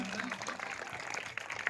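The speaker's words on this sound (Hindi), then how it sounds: "शानदार तालियां बजाकर हार्दिक स्वागत है" Brief clapping from a crowd at an Independence Day programme, a dense patter of many hands under a voice talking.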